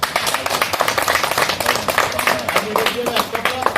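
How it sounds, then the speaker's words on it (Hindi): A group of people clap together, making a dense patter of overlapping hand claps that continues steadily while voices talk over it. "ताली बजा दो थोड़ा।"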